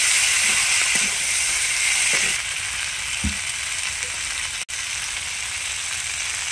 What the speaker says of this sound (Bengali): এবার মশলাটা আমি দিয়ে দিচ্ছি। ভালো করে নেড়ে চেড়ে দিচ্ছি।